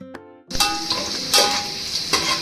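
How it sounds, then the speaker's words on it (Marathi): Crushed garlic hitting hot oil for a Malvani crab curry tempering, first a brief quiet clink, then an abrupt loud sizzle that stays close and steady with a few swelling bursts as it is stirred. "तेलात लसूण आणि टॅमॅटोची फोडणी द्यायची"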